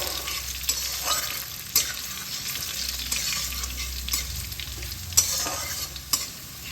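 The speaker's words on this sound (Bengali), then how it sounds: "রসুনটা হালকা হালকা ভাজা হয়ে যাবে, ভাজতে হবে" Sliced garlic cloves with black cumin fry gently in oil over a low flame, a continuous close sizzle punctuated by sharp clicks and scrapes of stirring.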